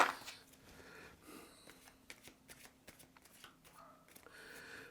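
Tarot cards are reshuffled by hand, a brisk riffle followed by a run of soft rhythmic slaps and flicks, close and quiet with no speech.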